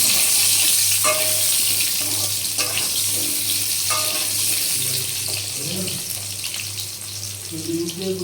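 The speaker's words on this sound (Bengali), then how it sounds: "তেলটা গরম হয়ে গেছে আলুগুলো একটু ভেজে নেব" Diced potatoes sizzling in hot oil in a pan, a steady bright frying hiss throughout with a few soft stirring clinks and scrapes.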